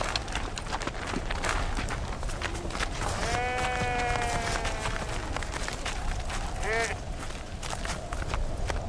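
Sheep bleat in two clear, wavering calls, one long and one short, over a dense, noisy bed of trampling and rustling from a flock.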